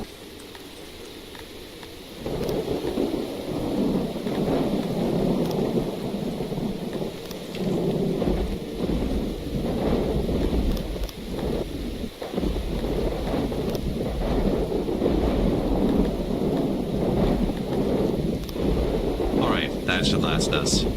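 Thunderstorm in the colony-building game Songs of Syx: steady heavy rain and deep rolling thunder fill the scene at close, loud level, with a quieter stretch at the start and someone talking over the storm.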